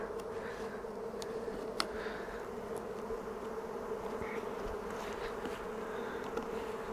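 Honey bees buzz steadily around an opened hive in early spring, a dense continuous hum close by with scattered individual bees droning past, no talking.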